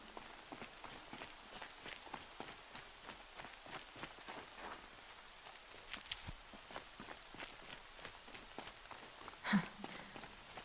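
Steady rain patters across a surface in the video game Horizon Zero Dawn, with soft scattered drops and a brief louder tap near the end; no voices.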